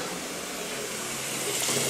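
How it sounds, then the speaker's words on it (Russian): Hot water pours steadily from a bathtub tap in a small hotel bathroom in Sliema, Malta, a close, even hiss of running water with no voices. "Горячая вода пошла"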